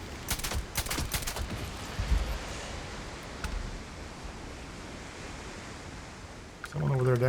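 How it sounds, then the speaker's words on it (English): Gunshots in the video game Starfield while shooting critters: a quick cluster of sharp shots at the start and a lone shot later, over steady windy ambient noise, with a voice speaking near the end. "Preemptive critter shooting."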